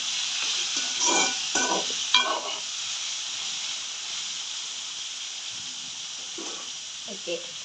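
Onions and tomatoes sauté in a pan for a Jaffna-style boonchi curry, a steady hissing sizzle running throughout while a person talks over it in short bursts.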